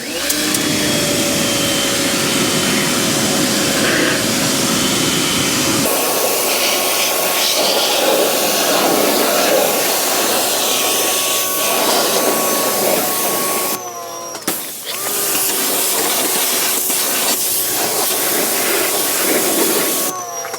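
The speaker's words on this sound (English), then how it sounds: "So I'm just trying to hose some salt off." A pressure washer hoses salt off a vehicle's underside in a garage, a loud, continuous motor whine and spray hiss that cuts out briefly once before resuming.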